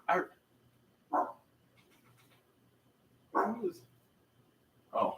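A pet dog barks in four sharp, separate bursts spaced a second or two apart, fairly close and loud against a quiet room with a low hum.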